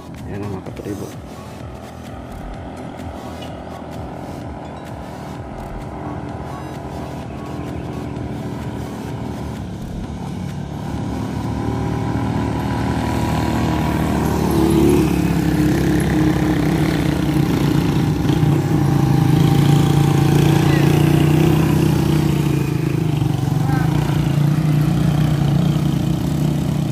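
A motorcycle labors up a steep road in the Philippines, its engine droning steadily and building in loudness and strain as it climbs, with someone talking over it throughout.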